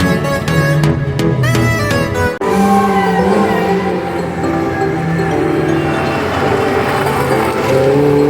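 Race cars run an auto solo test at Brooklands during a motorsport day: engines roar loudly and close by, with a few sharp revving bursts and then a sustained drone of a car driving past.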